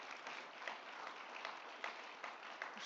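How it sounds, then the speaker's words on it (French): Conference audience at an agriculture talk gives a round of applause, continuous crowd clapping heard evenly throughout, fairly distant and quiet but steady. "Une bonne main d'applaudissements"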